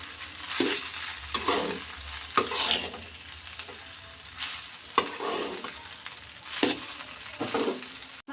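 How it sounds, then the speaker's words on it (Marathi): Cooked rice being stirred through vegetables in a hot pan for street-style veg fried rice, with repeated scraping strokes and a steady sizzle rising and falling in rhythmic bursts, close and moderately loud, with no talking. "तर आपण पुरा भात हलवून घेऊ आपला त्याच्यात चांगल्याने।"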